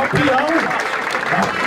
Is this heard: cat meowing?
no